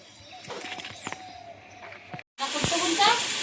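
Eggplant frying in a pan in a home kitchen, heard as a loud, steady hiss of sizzling oil that comes in suddenly after a brief silence, with quieter kitchen clatter and faint background noise before it.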